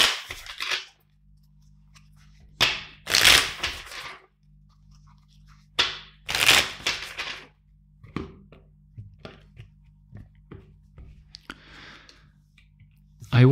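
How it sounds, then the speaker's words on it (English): Several bursts of crisp riffling and flapping tarot cards being shuffled, spaced a few seconds apart, with soft clicks and taps between them and a low steady hum underneath. "Let's shuffle four times the deck."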